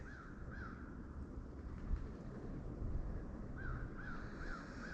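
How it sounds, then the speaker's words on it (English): A crow calls outdoors near dead trees in a woodland, giving two short raspy caws and then a run of three or four more at moderate distance over steady wind noise. "There's a crow calling,"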